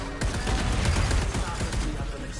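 Rapid bursts of explosions and gunfire crackle from a space shooter video game, a dense continuous barrage of overlapping blasts at steady loudness throughout.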